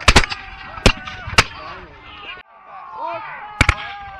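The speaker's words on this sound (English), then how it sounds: "Independent fire means that soldiers are to fire at their own pace." Musket shots ring out at a battle reenactment under independent fire, as soldiers shoot at their own pace: sharp, loud, irregular cracks in a quick cluster, a lull, then two more close shots, with shouting voices between them.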